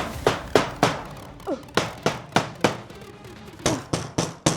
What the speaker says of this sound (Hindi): सारी कीलें बराबर तरीके से ठोक दी हैं